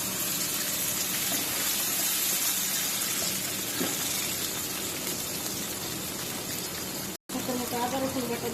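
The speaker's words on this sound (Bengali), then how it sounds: "একটু পানি দিয়ে দিব" Water poured into a hot pan of fried onions and spices for a hilsa fish curry gives a steady gushing sizzle, close and fairly loud, running almost unbroken with a brief cutoff near the end.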